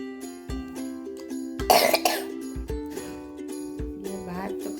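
A young girl coughs several times after taking cough medicine, short harsh bursts close to the microphone with music playing underneath.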